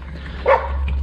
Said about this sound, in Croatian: Evo, znači laje na njega.